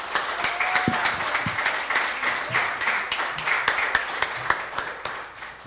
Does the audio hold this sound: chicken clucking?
no